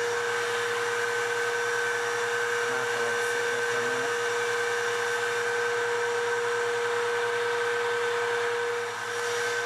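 A vacuum draws air out of a Lovesac shrink kit sack with a steady, loud, unbroken whine and rushing hiss throughout, close and without talking.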